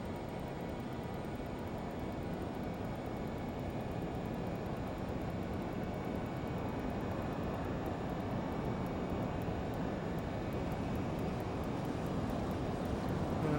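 Learjet 35 jet engines spooling up gently in a flight simulator game, a faint, steady, hissing engine drone with a high whine that holds throughout without any talk.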